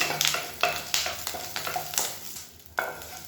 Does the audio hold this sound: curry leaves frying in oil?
yes